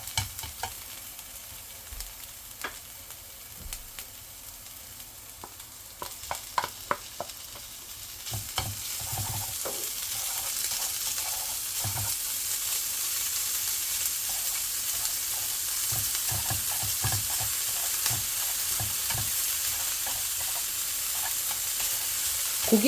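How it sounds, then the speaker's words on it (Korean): Onion and meat stir-fry in a pan for japchae, with a quiet start of scattered taps and scrapes before a louder steady sizzle takes over, punctuated by spatula strokes close by. "어느 정도 양파가 투명한 색을 보이면 고기를 넣고 볶아줄 거예요."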